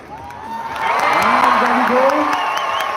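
Spectators at a show-jumping event applaud and cheer a clear round, the clapping swelling from light to a steady, fairly distant roar of crowd noise while a commentator talks over it.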